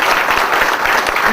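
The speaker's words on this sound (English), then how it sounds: "deserves another big round of applause." A large audience applauds steadily at a talk at IIPM, the clapping loud and dense throughout, with faint voices mixed in.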